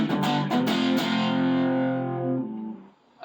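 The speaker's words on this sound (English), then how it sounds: "I'm going to crank up the distortion. Alright, that's some good crunch." Loud electric guitar power chords through an amp with cranked distortion give a crunchy rock tone: a few sharp strummed attacks, then a held chord ringing out and decaying near the end.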